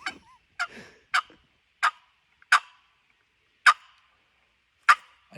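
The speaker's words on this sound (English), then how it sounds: "I gave Cory a box call." A wooden turkey box call is worked outdoors, giving a series of about seven sharp, raspy yelps spaced roughly a second apart, clear and isolated against near silence.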